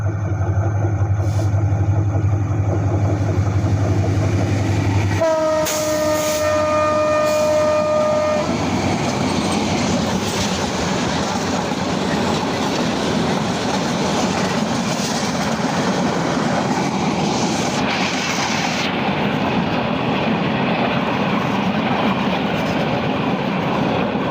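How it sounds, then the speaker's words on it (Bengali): A train approaches and passes close by on the rails, a horn sounding briefly before a long, loud rumbling roar of wagons rolling past. No one speaks. "চলে যাচ্ছে ট্রেনটি।"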